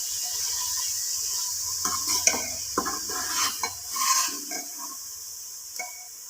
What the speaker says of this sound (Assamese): লো ফ্লেমত বনাই আছোঁ মই একদম লাৰি থাকিব লাগিব ভালদৰে তলত যাতে লাগি নধৰে